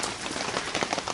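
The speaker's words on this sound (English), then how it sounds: "even still I could see rain dripping from here down." Rain drips and patters through a tarp stretched over a building under construction, a dense, close, steady spatter with no pauses or voices.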